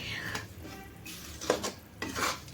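Sukhdi flour being stirred and roasted with finely grated coconut in a pan, a few soft scraping stirs with light clinks of a spoon against metal over a faint low sizzle, close by with no talking.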